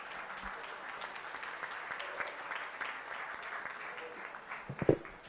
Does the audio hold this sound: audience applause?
yes